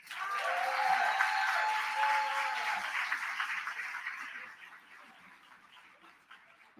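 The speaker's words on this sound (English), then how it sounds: "Please give A warm round of applause to Lauryn Welsh." Crowd applause at an event honoring Malcolm X, a dense wash of clapping and cheering that is loud at first, then gradually thins and fades over several seconds, with a high tonal whistle riding on top early on.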